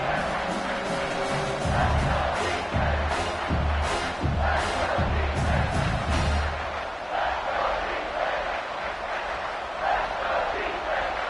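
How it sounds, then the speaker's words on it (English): A football stadium crowd roars loudly and steadily as fans try to fire up the defense for a red zone stop. The noise is thick, with rhythmic pulses for the first six seconds before it settles into a sustained roar. "This crowd is trying to inspire this defense to make a big red zone stop"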